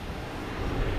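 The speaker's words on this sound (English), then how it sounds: "Before that, we have American Airlines taking off." An American Airlines plane taking off at Boston Logan Airport makes a steady, loud broadband jet roar that swells slightly toward the end of the brief moment, with no talk.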